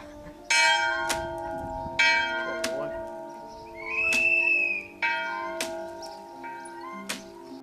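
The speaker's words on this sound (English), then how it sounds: "we pass through a church that has a chain attached to the bell, and we decide to make it sound" A church bell rung by pulling its chain rings loudly in uneven strikes, each ringing tone lingering and overlapping, with faint background noise between clangs.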